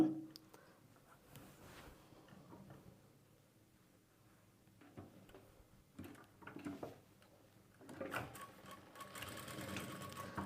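A sewing machine stitches the side slit of a churidar top, running in uneven bursts with pauses between, close and fairly quiet, with no talk over it.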